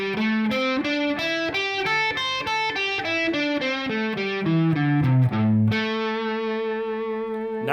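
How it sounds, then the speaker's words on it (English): Distorted electric guitar picks through a minor pentatonic scale note by note, stepping steadily downward in an even rhythm before settling on a sustained final note, loud and alone. "So minor pentatonic sounds like this."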